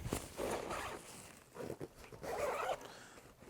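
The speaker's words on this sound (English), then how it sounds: "If I unzip this," The zipper on an inner main compartment of a Strix Tactical Flight Pack backpack is pulled open in two quick, soft ripping runs, close and quiet.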